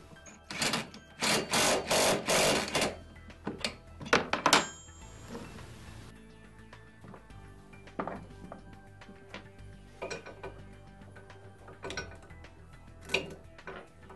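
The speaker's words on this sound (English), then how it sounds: "using our 17 and 14 millimeter wrenches, we're going to tighten up our seat belt." Wrenches of 17 and 14 mm tighten the bolts of a golf cart seat belt, giving close ratcheting bursts and metallic clicks early on, then sparse clanks and scrapes spread over the rest.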